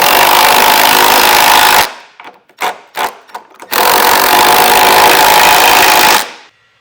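Power tool snugging down trailer hitch bolts on a 2021 Buick Enclave, a loud close whirring burst, a few short stuttering pulses, then another sustained run before stopping.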